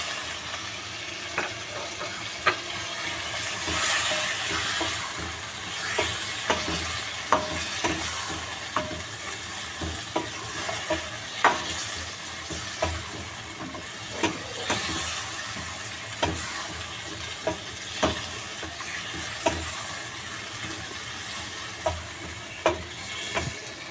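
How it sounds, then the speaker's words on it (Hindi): Round tomato slices sizzle with chicken in a pan while cooking chicken pulao. A steady frying hiss runs throughout, broken by regular clinks and scrapes of a spoon stirring, with no talk. "अब जो ये मैंने टमाटर के गोल गोल पीस काट के रखे हैं उसको डाल देंगे,"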